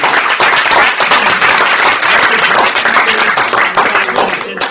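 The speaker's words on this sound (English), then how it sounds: "Let's give a round of applause." Audience applause closing a talk at a global conversations event on developing nations, a dense, steady wash of many hands clapping close by, holding loud throughout and easing slightly at the end.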